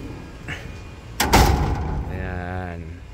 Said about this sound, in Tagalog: Sasarado lang natin ang pinto